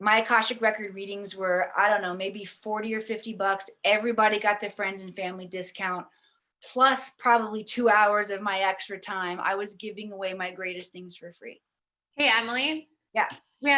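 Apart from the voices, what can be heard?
None of the usual background noises is heard.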